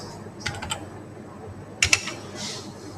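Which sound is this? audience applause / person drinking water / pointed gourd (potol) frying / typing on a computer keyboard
typing on a computer keyboard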